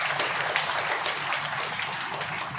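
An audience at a spiritual talk breaks into a dense, even burst of applause, many hands clapping together in a brief sustained wash of sound.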